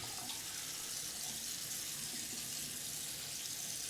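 Cold water runs steadily from a bathroom tap into a sink, a constant close hiss and splash that continues without a break.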